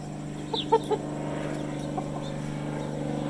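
A meat chicken held by its legs during home poultry processing gives a few short clucks close to the microphone, a quick cluster and then one more, over a steady low background hum.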